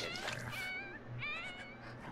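A cat meows in The Sims 4 video game: a few short, tonal mews over a steady background hum, fairly soft, with no talking.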